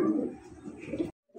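A pair of pigeons, dragon homa breed, coo close by in one brief throaty phrase that stops short, then resumes faintly.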